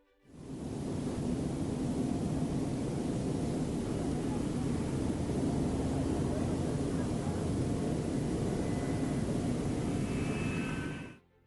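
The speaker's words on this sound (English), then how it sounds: "the aircraft equipped with the J-79 engine embarked on its maiden flight" Jet aircraft powered by a J-79 engine in flight, a loud, steady, broadband roar that fades in, holds at constant strength for about ten seconds, then cuts off.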